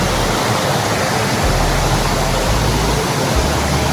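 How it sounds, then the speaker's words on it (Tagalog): Water pours hard at May Falls in Calauag, Quezon, a dense, steady roar that fills the air close by, loud and unbroken, with no voices. "kita niyo naman sobrang lakas ng daloy ng tubig din"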